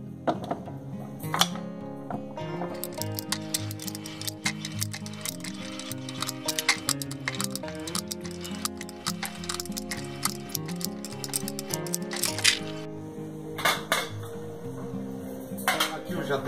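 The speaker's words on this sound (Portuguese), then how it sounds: "Cortando uma cenoura só para dar uma cor na salada" A knife cuts a carrot for a salad, making a run of sharp, quick taps on a board, close by but fairly soft under background music, with a brief spoken voice.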